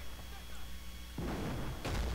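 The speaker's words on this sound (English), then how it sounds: "Mortars moving back up. I'm trying to bombard that position again." A mortar bombardment in a war strategy video game lands as a few deep, booming thuds over a steady background rumble, with a person talking over the game sound.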